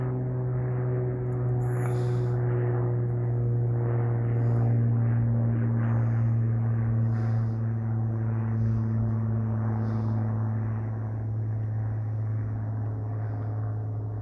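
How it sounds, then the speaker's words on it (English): Small unmarked propeller plane flying overhead, a loud steady droning hum with a low, even pitch that holds throughout, close and unbroken, with no voices. "it's not a chopper, it's a small plane"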